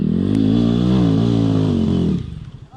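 A motorcycle passes on a road near Minglanilla, Cebu, Philippines. Its engine drones loud and close for about two seconds, then quickly fades away.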